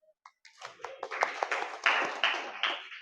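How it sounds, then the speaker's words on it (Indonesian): A class of students claps for everyone, starting with a few scattered claps and quickly swelling into a fuller, uneven round of hand clapping that holds at moderate loudness. "kita tepuk tangan untuk kita semua"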